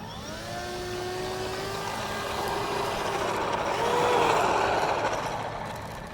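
Motor of a homemade RC fighter plane running, a steady whining buzz with rising and falling pitch that swells louder toward the middle, heard close and alone.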